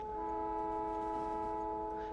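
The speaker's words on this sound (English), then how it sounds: "that might be our first train coming" A train pulling in within the Factorio factory game, with steady horn-like tonal hums over a continuous rumbling bed, holding even and moderately loud throughout.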